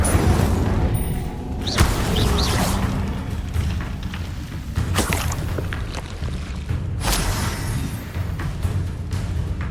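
In Hogwarts Legacy, the Incendio fire spell is cast as a loud burst of whooshing flame with booming impacts, repeated a few times over busy game sounds.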